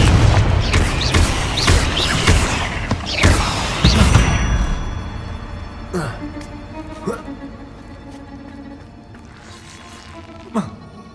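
Spell blasts from Hogwarts Legacy's Confringo fire off in a burst of heavy booming impacts during the first four seconds, then fade to scattered softer hits and swooshes over game ambience, with a voice speaking at times.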